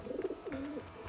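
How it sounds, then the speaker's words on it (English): A pigeon in Grand Theft Auto 5 gives a short, soft, low coo of a few warbling notes, close and alone. "Pigeon."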